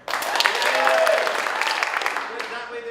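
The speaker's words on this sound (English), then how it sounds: "you're going to give them a burst of level 10 applause" An improv theatre audience bursts into loud, sustained applause and clapping that swells quickly, holds for a couple of seconds, then tapers off.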